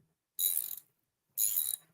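Ratcheting as a bolt is slowly turned in: two short bursts of bright, rapid clicking about a second apart, each lasting under half a second, close and clear against silence.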